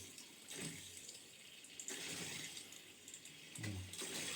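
Water rushes and gurgles through an underfloor heating manifold as it fills with air-laden water, in uneven surges, swelling louder at intervals, with no voices present.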